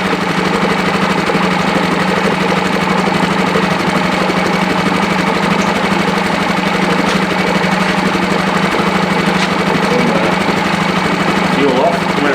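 A boat motor runs steadily nearby, its even, throbbing engine rumble and mechanical knock holding unchanged without a break.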